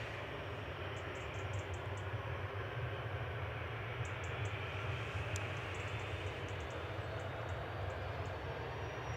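A Jet2 jet airliner departing Manchester Airport for Tenerife South produces a steady, heavy engine roar throughout, with faint high chirps above it.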